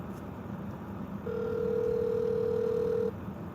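A phone call rings out while waiting for an answer: a single long steady ringback tone sounds clearly over quiet room background and then stops.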